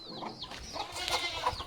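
A mother hen clucking on a poultry and dairy farm, several short close clucks in an uneven series with soft farmyard background.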